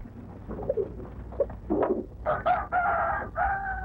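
A fighting rooster crows loudly and close by, a drawn-out call that rises and breaks, with clucking and scattered noise from other fowl just before.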